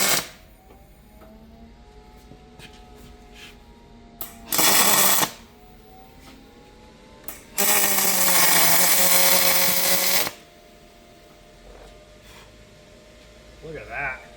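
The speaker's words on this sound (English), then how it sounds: "so love the smell of that, or the sound of that welder" A welder lays beads on a snow ski kart frame in two harsh crackling bursts, one short and one lasting a few seconds, over a steady low mechanical hum in a workshop.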